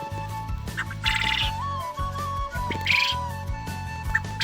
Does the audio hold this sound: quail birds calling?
yes